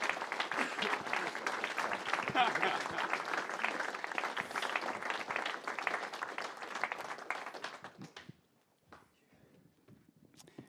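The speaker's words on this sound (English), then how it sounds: "Just clap." Audience applause fills a fans' forum at Home Park, Plymouth Argyle's stadium, as the chief executive is introduced: dense, steady clapping from a sizeable crowd that swells, then fades out sharply toward the end, leaving a few scattered claps.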